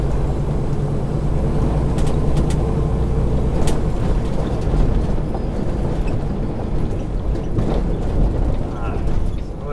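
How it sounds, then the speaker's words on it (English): Car rolling past near a truck waiting at a drop yard, a steady engine and road rumble with mechanical rattles and clicks throughout, fairly loud and close. "Wait on this car to go by."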